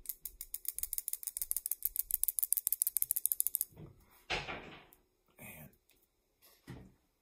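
Small fishing lure shaken by hand so its internal rattle clicks rapidly and evenly for several seconds, close and crisp, then stops; brief sounds of handling follow.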